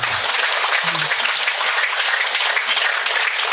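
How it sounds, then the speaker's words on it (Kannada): A crowd applauds at the opening ceremony of a pyramid meditation centre in Bangalore, dense continuous clapping filling the room at an even, loud level throughout. "ಸೊ ಒಂದು ಜೋರಾದ ಚಪ್ಪಾಳೆಯ ಮುಖಾಂತರ"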